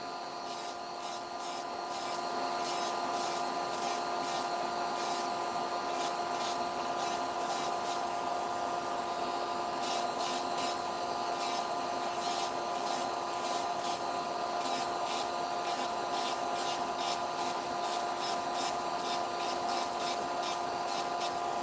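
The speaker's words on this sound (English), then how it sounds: "when drilling with my non-dominant hand, it's kind of easier for me to just hold the drill" A high-pitched electric nail drill whirs steadily, with a thin rasping scrape as it files off gel polish from nail extensions, interrupted by brief pulsing bursts.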